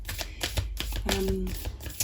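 Tarot cards being shuffled by hand, a rapid papery riffling and flicking that runs continuously and close up while someone talks.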